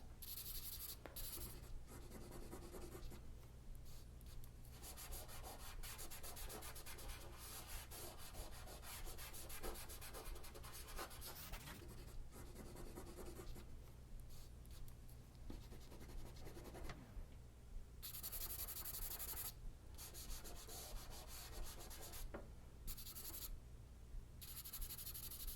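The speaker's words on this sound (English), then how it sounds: "I'm layering this charcoal on" Charcoal pencil shading on paper, laid on slowly and lightly in layers: a steady, close dry scratching and rubbing that runs almost continuously, broken by a few short pauses as the pencil lifts.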